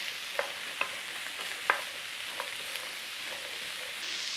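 Minced beef with carrot and celery stirred in a hot pan, a steady soft sizzle carrying through while a spoon scrapes and taps against the pan a handful of times at irregular intervals.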